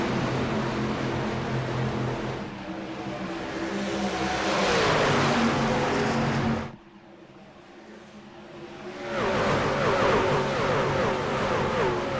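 Race cars at Kansas Speedway roar loudly as a Track Champion Series race gets underway, engines revving hard and sustained, dropping away briefly for a couple of seconds before another loud wave of engine noise sweeps back in.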